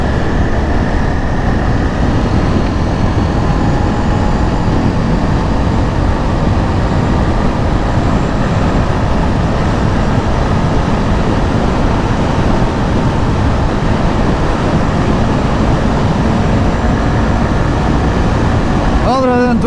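A Honda CRF 300 motorcycle in 6th gear at about 60 km/h drones steadily and loudly as the throttle is twisted, with heavy wind rush over the engine throughout.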